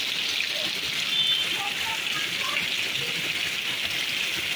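Steady rain falls outdoors in Laos, a continuous hiss with soft scattered drips, close and even throughout.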